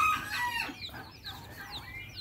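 Chicks and chickens at a poultry farm cluck and chirp in a busy, overlapping chorus, with sharp peeping calls rising and falling close by throughout.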